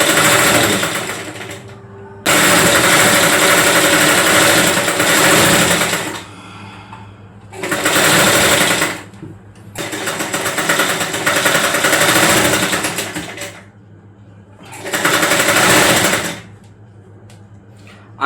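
A half-setter sewing machine stitches piping in loud bursts of rapid, buzzing mechanical whirring, four long runs separated by short pauses where quieter handling and rustling fill the gaps.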